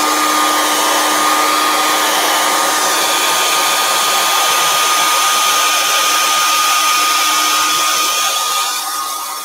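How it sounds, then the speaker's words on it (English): A small handheld blow dryer runs continuously for about nine seconds, drying wet craft work with a loud, steady whirring whine up close and no pauses or talking. "I'm going to take my little blow dryer and I'm going to blow dry it off real quick"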